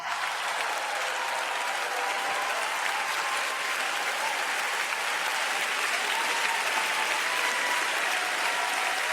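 Steady, dense applause from a large church audience in Changi, Singapore continues without a break, even in volume throughout.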